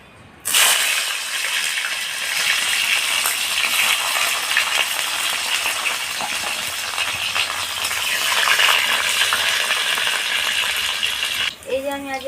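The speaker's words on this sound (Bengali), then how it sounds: "এরপরে উচ্ছেগুলোকে ভেজে নেব।" Bitter gourd frying in hot oil in a wok for a festive shukto, a loud steady sizzle that bursts in abruptly and holds throughout, ending with a brief clatter.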